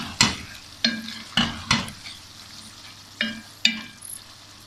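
Chopped green chillies fry in a pan of chicken and vegetable biryani, a soft sizzle under sharp, repeated clinks and scrapes of a stirring spoon against the metal, close by and with no talking.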